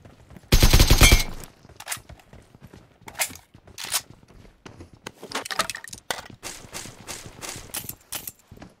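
Gunfire in a tactical shooter video game: a loud close burst of automatic fire followed by scattered sharp shots and clattering bursts at irregular intervals.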